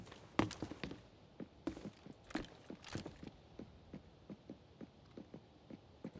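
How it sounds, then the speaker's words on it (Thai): Footsteps of an unseen player or bot in the shooter game Arena Breakout, a steady run of soft thuds at an even pace, a few louder impacts early on, then quieter regular steps continuing at a middle distance. "มีเสียงเท้าเดินอยู่ไหนนแต่ไม่รู้เป็นคนหรือบอท"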